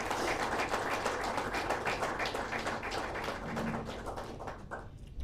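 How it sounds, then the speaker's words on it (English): An audience at a 50th anniversary celebration applauds its founder members with dense, close clapping that thins and tapers off toward the end. "let's give a loud applause to all our founder members"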